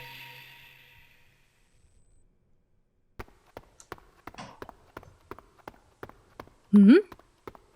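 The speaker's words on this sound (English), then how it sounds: "Is that footsteps? I heard what sounded like footsteps behind me." Footsteps sound effect in a Japanese horror story: after a fading hum and a brief silence, a steady series of distinct, hard steps draws near, ending with a short loud tonal swell.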